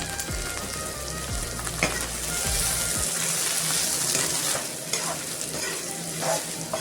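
Green peas and green chillies sizzle and fry in a pan while being stirred, a steady close crackle broken by several scraping strokes of a spoon, with no talk.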